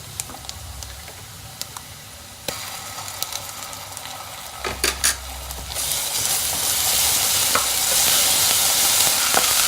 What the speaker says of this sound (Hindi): अब हम इसमें अदरक और लहसुन का पेस्ट डाल देंगे।